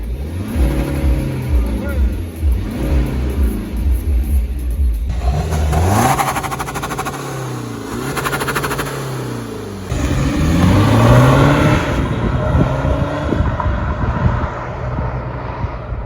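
BMW 116d Stage 1 diesel car engine revving and accelerating in loud surges with gear-change dips, captured from inside the car, with a person talking over the engine.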